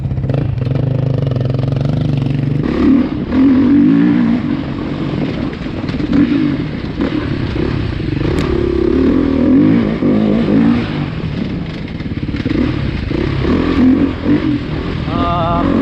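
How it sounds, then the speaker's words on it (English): A 2020 Beta 390 RRS dual sport motorcycle engine running and revving, a loud, close, rough mid-pitched drone that swells and eases repeatedly, with some mechanical clatter mixed in. "Let's start things off with the 390, Beta 390 RRS."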